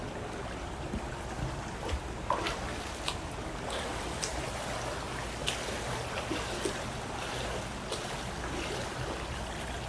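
Water in a swimming pool splashes and sloshes as a person swims, a continuous wash of churning water broken by scattered brief splashes and slaps, moderately close, with no talking.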